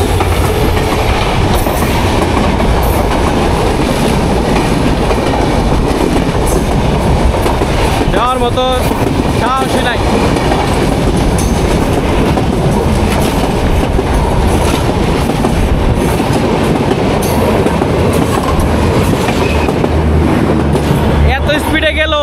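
An express train rushes past at high speed, a loud continuous roar and rattle of rail cars close by, with a voice speaking over it.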